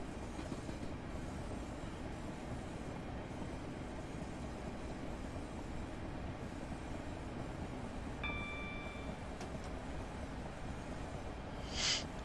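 A Class 465 electric commuter train running on the Chatham Main Line in Train Simulator 2016, a steady low rumble and hum of the moving train holding level throughout, with a brief tone near the end and no voices.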